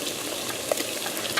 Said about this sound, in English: There's some donuts frying up.